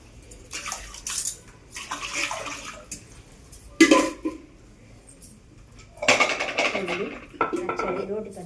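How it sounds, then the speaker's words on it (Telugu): Water is poured and swished into a stone mortar in bursts of splashing, with a hard clink of stone or utensils between pours. "ఇందులో నీళ్ళు పోసేసి వెంటనే రోట్లో నీళ్ళు పోయాలి"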